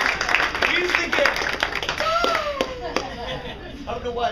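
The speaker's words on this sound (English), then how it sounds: "round of applause for that" A lively drama-class group gives a round of applause, dense overlapping hand claps filling the room, with children's voices and chatter mixed in and brief vocal shouts rising above the clapping.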